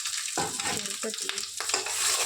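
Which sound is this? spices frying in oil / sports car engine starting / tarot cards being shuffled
spices frying in oil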